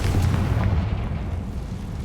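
A booming fiery blast from the Confringo spell in Hogwarts Legacy bursts out, then a rumbling decay that fades over about two seconds.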